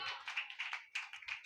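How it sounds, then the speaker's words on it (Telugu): A church congregation claps hard on request during a sermon, a brief run of quick, uneven hand claps close by. "చప్పట్లు కొట్టండి గట్టిగా."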